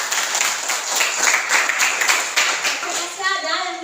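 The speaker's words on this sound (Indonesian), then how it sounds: "Ya, berikan tepuk tangan." A group, likely a class of students, claps in applause for several seconds, a steady dense patter of hands that tapers off near the end.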